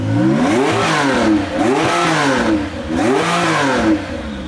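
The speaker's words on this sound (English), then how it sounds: "this Porsche sounds way better than my Porsche" A Porsche engine revs hard and loud up close, rising and falling in repeated sweeping bursts of throttle with a throaty, continuous roar.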